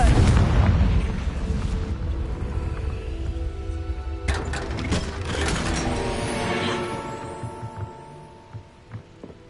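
A Confringo blasting spell goes off in Hogwarts Legacy. A loud, broad rumbling blast is followed by a second burst with mechanical rattling, then the sound fades into a quieter tail of small clunks. No one speaks.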